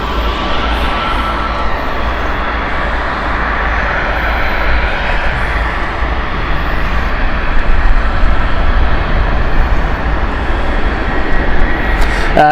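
EasyJet airliner at Gatwick Airport, its jet roar steady and fairly loud throughout, fading slightly in places with no talk over it.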